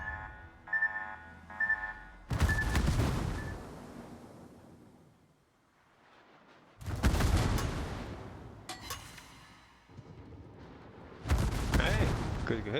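Warship guns from the World of Warships game, aboard the battleship Kansas, boom in three heavy salvos, each a loud blast that rolls into a long rumbling decay, with quieter game tones and sea wash between.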